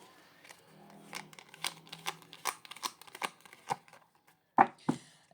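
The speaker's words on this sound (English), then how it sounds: "When I shuffle the deck for cards to come out, it always lands on 8 cards" A quiet run of crisp riffling and snapping card sounds, irregular clicks close by, ending with a couple of sharper slaps.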